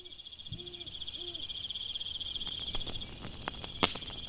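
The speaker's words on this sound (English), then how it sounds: "The chirping of crickets" Crickets chirp in a continuous high, steady trill on a full-moon night in a Coorg hill-station forest, with a few brief clicks and a soft tap standing out near the end.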